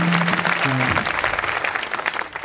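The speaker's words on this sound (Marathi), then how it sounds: "या गुणवान माणसाकरता, वाजवणाऱ्या माणसाकरता एकदा टाळी वाजवा." Audience applause at a kirtan celebration, loud and close, a dense burst of clapping that slowly thins out, with a voice briefly heard at the start.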